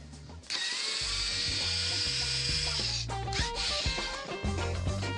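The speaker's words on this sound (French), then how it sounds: "Nous allons le dévisser." A power screwdriver backs the screws out of an independent chair seat panel screwed to the frame, producing a close, steady motor whine that runs for several seconds, breaks off briefly midway, then resumes.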